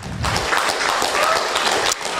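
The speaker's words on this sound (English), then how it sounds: "Big applause." Applause from an audience at the close of a panel discussion at a futures summit, a dense burst of clapping lasting about two seconds.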